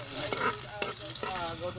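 Garlic sizzles in hot cooking oil with a dense, steady frying hiss, close up, punctuated by a few soft stirring clinks.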